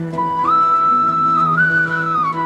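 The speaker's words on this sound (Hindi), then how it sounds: "सीटी बजाए पू पो लेकर आई खुशियों की ट्रेन" A toy train whistle in a children's song sounds as a single sustained tone that rises partway and holds, bright and near, over a soft musical backing.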